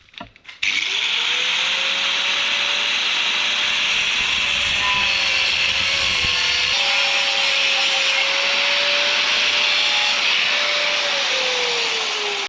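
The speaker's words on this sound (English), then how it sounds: "I'm going to use an angle grinder" An angle grinder cutting metal for a homemade camera mount, a loud, steady, close whine that starts abruptly and holds its pitch, sustained for the whole stretch with no voices.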